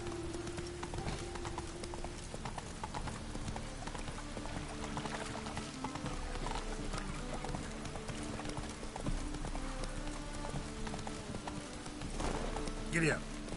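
Horse galloping in the video game Witcher 3, a steady run of hoof clip-clops over a bed of game music and ambience, with a voice speaking briefly over it.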